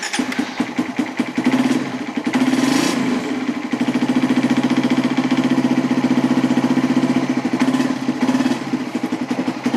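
A Suzuki Satria FI motorcycle engine idles close by, a steady, loud, pulsing mechanical rumble that holds level throughout.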